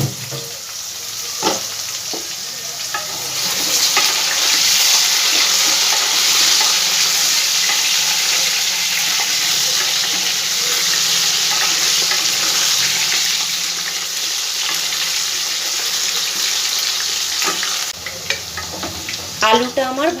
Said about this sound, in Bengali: আলুটা আমার ভাজা হয়ে গেছে